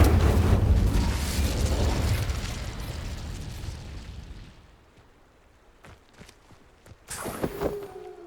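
Incendio fire spell cast in the video game Hogwarts Legacy: a loud roaring whoosh of flame that fades over about four seconds, followed by quiet footsteps and then a sharper magical burst near the end, no voices.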